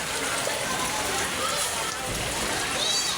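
Rain pours steadily outdoors in a dense, close hiss of drops striking surfaces, continuous and even from start to finish.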